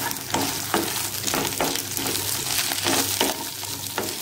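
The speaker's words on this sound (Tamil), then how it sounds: "200 வெண்டைக்காய் நல்லா எடுத்து போட்டு நல்லா எண்ணெயில் வதக்கிக்கலாம்." About 200 grams of cut okra sauté in oil for sambar, a continuous close sizzle broken by repeated scraping stirs of a spoon in the pan at a loose, regular pace.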